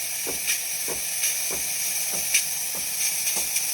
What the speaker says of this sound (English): Once it starts spitting steam, you turn it off.